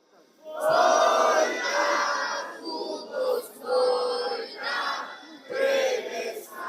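A large protest crowd in Bulgaria chants and shouts in loud rhythmic waves, with repeated surging calls rising and falling close by.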